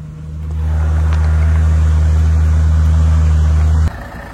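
Truck engine labouring in low gear at quarter throttle with all differential locks engaged on a muddy off-road track in the Balkans, a loud steady drone that swells in and cuts off sharply near the end.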